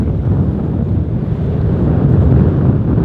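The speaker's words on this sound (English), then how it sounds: "30 knots of wind." Strong wind of around 30 knots buffets a boat out on open water, a loud, steady roar of gusts battering the microphone with a low rumble throughout and no voices.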